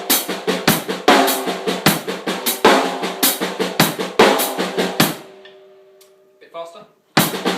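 A drum kit plays a fast, busy groove with crisp cymbal and snare hits, pauses briefly with a faint ringing tail, then kicks back in.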